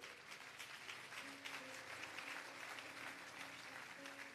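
Audience applause fills a church gathering at the 2024 Lagos NLC grand finale: dense, steady clapping that holds at an even level from start to finish, with a faint tonal hum beneath it.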